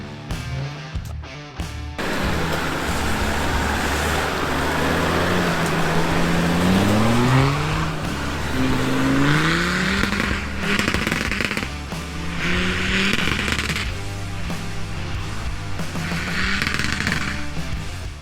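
A 4x4 off-roader grinding steadily along a rough green lane in North Wales, its engine droning loud and close throughout, with gear and revving shifts and occasional knocks and rattles from the terrain.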